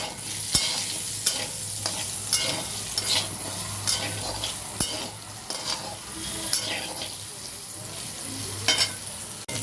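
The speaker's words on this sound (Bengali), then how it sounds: "আলুটা দিয়ে দিলাম, দিয়ে অল্প একটু হলুদ দিয়ে ভেজে নিলাম যাতে সুন্দর হয়" Potatoes with turmeric frying in hot oil, a continuous close sizzle broken by sharp clicks and scrapes of a spatula stirring the pan, no voices.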